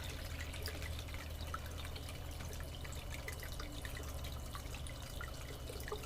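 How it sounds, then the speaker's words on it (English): Water trickles and splashes steadily through a sluice into a catch basin, a continuous soft liquid patter with scattered drips over a low constant rumble, faint and unbroken. "let's slow that water down a little bit."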